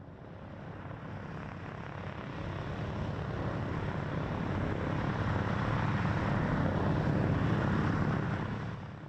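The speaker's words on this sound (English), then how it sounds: "The Pratt & Whitney R1830 twin Wasp engines of the C-47s started around 2100 local, one after the other" Piston engines of a C-47 aircraft, Pratt & Whitney R1830 Twin Wasp radials, drone steadily, swelling in loudness after a couple of seconds and holding a continuous low rumble with no talk over it.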